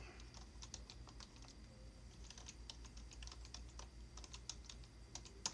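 Someone types slowly with one hand on a computer keyboard, giving faint, irregular clicks over a steady low hum, with no talking.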